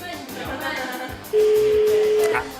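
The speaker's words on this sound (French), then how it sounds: "Deuxième sonnerie." A telephone ringback tone on an outgoing call sounds as a single steady, clear tone lasting about a second, after a moment of low background noise.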